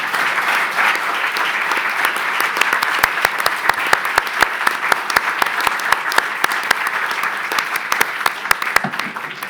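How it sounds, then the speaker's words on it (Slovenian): A room full of people applauds warmly, dense clapping sustained throughout with sharper individual claps standing out near the listener. "bi prosil za še en lep aplavz za njih"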